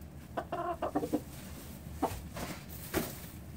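A pet chicken at a 4-H poultry showmanship clucks nearby in a quick burst of several notes, followed by two more single clucks, over a quiet room background.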